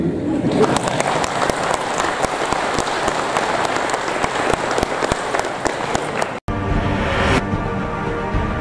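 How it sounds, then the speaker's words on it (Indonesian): Audience applause at a public event with the governor, sustained dense clapping from a crowd for several seconds before cutting off abruptly into a brief different sound. "Kalau saya nggak ditepukin tangan, saya tepuk tangan sendiri."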